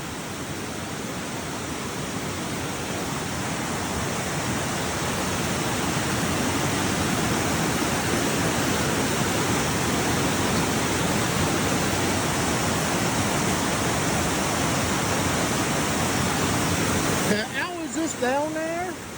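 Creek water rushing over a drop near a covered bridge after heavy downpours, a steady loud roar like a waterfall that continues unchanged, with someone briefly speaking near the end.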